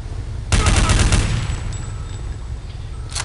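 Burst of rapid gunfire in Counter-Strike: Condition Zero, a loud sharp onset followed by a dense volley of shots over about a second, then a fading echoing tail with a brief sharp sound at the end.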